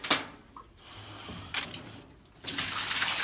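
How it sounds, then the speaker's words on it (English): Water runs from a 3/16 inch line into a bucket, a steady splashing hiss that swells and dips in a few surges, heard alone without voices. "But you can see this is the water flow that we tested."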